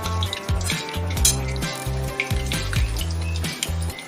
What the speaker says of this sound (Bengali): আরও কয়েকটা কোপ্তা বাকি আছে সেটাও ভেজে নিব